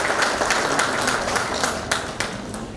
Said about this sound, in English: So can we give ourselves a round of applause for being there?